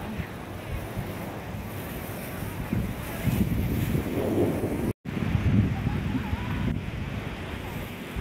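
Strong wind buffets the microphone at Shek O beach in Hong Kong, with heavy sea waves rushing ashore in a steady roar and a brief dropout partway through.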